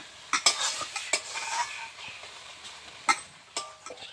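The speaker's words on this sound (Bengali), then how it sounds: "একটু বারবার নাড়াচাড়া করতে হবে" Coconut filling for dudh puli pitha is stirred in a pan, giving scraping and clinking strokes against the metal at an irregular pace over a faint sizzle.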